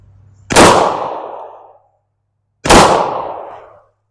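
Two loud handgun shots fired at range targets, each a sharp crack with a trailing echo, spaced about two seconds apart outdoors.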